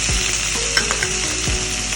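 Tomato tipped into a pan of well-browned onions and masala sizzles loudly and steadily, with spoon scrapes and stirring knocks over the hiss of frying.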